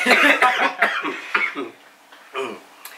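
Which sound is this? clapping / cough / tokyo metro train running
cough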